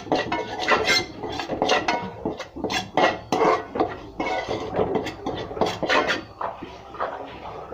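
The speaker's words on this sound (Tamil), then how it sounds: "குழம்பு மிளகாய் பொடி வறுக்கிறோம்" Curry chili powder being roasted in a pan for rock fish curry: busy metallic scraping and clinking of a spoon or ladle against the pan, irregular and close, with occasional faint sizzle underneath.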